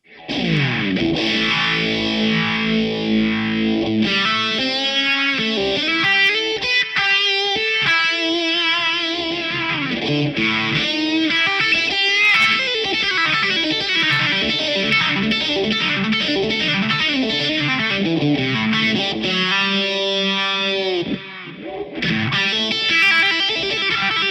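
Distorted electric guitar swirling through a Keeley Vintage Phaser, playing sustained chords and riffs, loud and continuous with a sweeping, whooshing tone.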